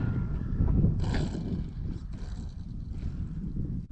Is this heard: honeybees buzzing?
no